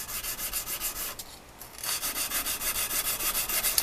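A knife blade sanded by hand in quick forward and backward strokes, a steady rhythmic rasping scrub with a short pause, close and alone.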